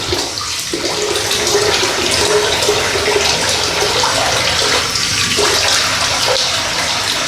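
Water rushes and gurgles steadily close by as a sink drains, with a continuous splashing flow and no talking.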